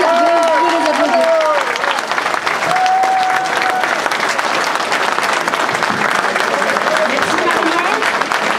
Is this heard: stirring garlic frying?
no